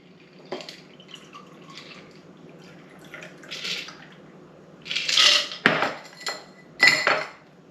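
Stirred Sazerac cocktail strained into a serving glass, with clinking glass and metal strainer taps, a few soft drips and pours, and several sharper clinks near the end, close and moderately loud with no talk.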